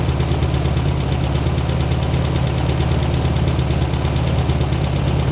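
A 1972 VW Super Beetle engine runs right after its first start, idling with a steady, close, loud rumble and a rhythmic knocking throb, with no talk over it.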